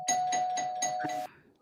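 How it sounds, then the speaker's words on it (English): Doorbell ringing nearby, with about four bright repeated chimes over a steady tone and then a short noisy burst as it ends. "Somebody ringing the bell"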